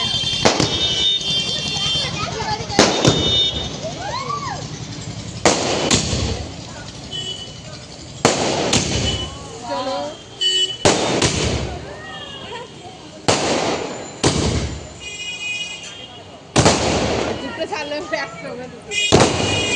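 Firecrackers burst in quick pairs again and again, sharp loud cracks spaced a few seconds apart, with people talking and reacting between the bangs.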